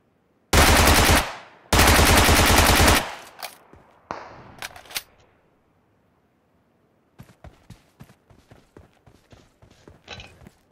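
Gunfire in the battle royale game PUBG Mobile: two loud, rapid automatic bursts up close, a few single shots, then quieter scattered distant shots and clicks after a brief lull.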